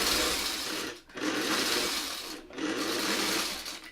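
Sewing machine running on quilt Y seams, two short pauses breaking otherwise steady, close whirring runs of stitching.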